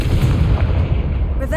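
The Confringo blasting spell goes off in Hogwarts Legacy, a loud, deep booming explosion with a rumbling tail, closely mixed with speech.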